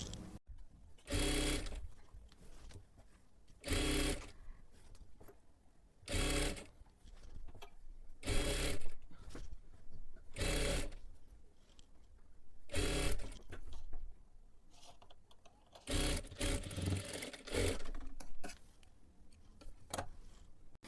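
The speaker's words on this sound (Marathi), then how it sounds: "पूर्ण गळ्याला आपल्याला अशाच पद्धतीने शिलाई करून घ्यायची आहे" Sewing machine stitching a piping strip around a blouse neckline, running in repeated rapid whirring bursts of a few seconds each, separated by short pauses as the fabric is folded and guided.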